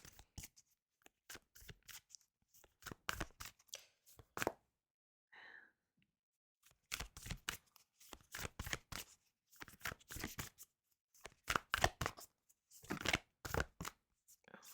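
Tarot cards being shuffled by hand in repeated bursts of crisp riffling and slapping, with brief pauses between rounds and no talk.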